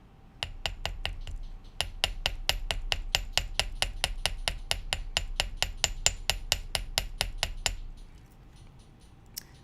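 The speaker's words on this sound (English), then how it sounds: "we can hammer this loop just a little, and that's where the small chasing hammer comes in." A small metal chasing hammer taps rapidly and steadily on a wire loop for an earring, about thirty sharp bright strikes in an even rhythm, close by, with a short pause early on.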